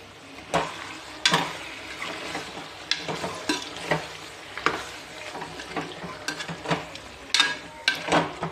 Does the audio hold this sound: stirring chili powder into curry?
yes